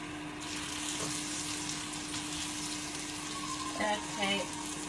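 Beef steak sizzles and fries in a very hot pan, a steady quiet crackle with a couple of brief clinks or stirs near the end and no one talking.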